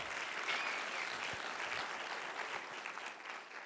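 An audience at a church service breaks into continuous applause, a dense and fairly faint wash of many hands clapping at once, heard from some distance.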